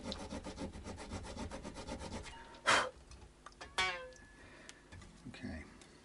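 Steady back-and-forth rasping of a file through the nut slots of a Hohner HG430 guitar during setup, strings fitted, repeated close strokes with a few sharper scrapes and clicks near the middle.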